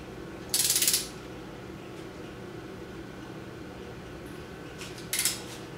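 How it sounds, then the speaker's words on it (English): A torque wrench ratchets in two quick bursts of clicks while oil pump bolts on a Foxbody Mustang engine are torqued to 35 foot-pounds, the first burst longer, the second short, over a quiet garage background. "so we're gonna torque this one down to 35 foot-pounds"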